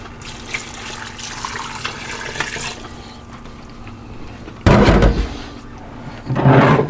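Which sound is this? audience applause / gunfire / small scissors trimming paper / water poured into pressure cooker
water poured into pressure cooker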